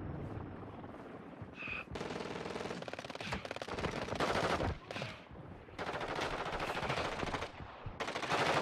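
Sustained automatic gunfire in Call of Duty Mobile, loud continuous machine-gun bursts broken by brief gaps, with explosions and battle noise underneath.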